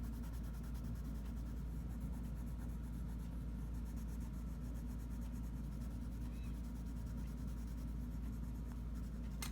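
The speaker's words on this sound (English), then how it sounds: "So now I'm burnishing out a little bit farther" Colored pencil burnishing on paper, red pigment pressed and blended in steady strokes, gives a faint, continuous close scratching and rubbing with no pauses.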